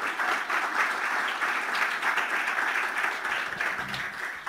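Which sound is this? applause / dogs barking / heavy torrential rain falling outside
applause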